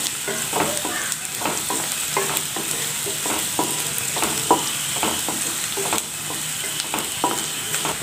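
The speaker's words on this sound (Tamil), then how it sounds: "வெங்காயம் நல்லா வதங்குற வரை நல்லா வதக்கி விட்டுக்கலாங்க" Onions sauté in a pan for egg-stuffed vendakkai fry, a continuous close sizzle with regular spatula scrapes and stirring taps throughout.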